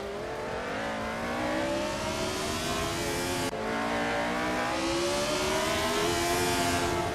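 A 1976 F1 McLaren M26 race car engine in a racing video game revs hard and steadily, its rising, layered harmonic whine continuous and loud throughout with a brief dip midway.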